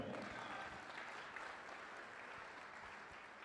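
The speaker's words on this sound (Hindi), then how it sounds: "तारीफ करो ताली बजाकर।" Faint congregation applause at a church service, a steady wash of distant clapping without distinct individual claps.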